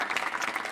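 Audience applause with dense, steady clapping from a crowd, brief and moderately loud throughout.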